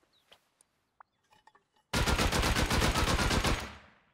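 After a few faint scattered clicks, a loud sustained burst of rapid automatic gunfire erupts in Rust during a raid on an ice-bound base, hammering for about two seconds before trailing off.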